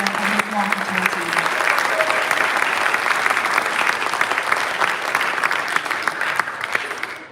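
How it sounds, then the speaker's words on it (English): Hearty audience applause for the Milwaukee Tool team rises quickly and holds as a dense, even wash of clapping for several seconds before fading, with a voice briefly audible at the start. "So could we please have a round of applause for Andy, Daniel, and his Milwaukee Tool team."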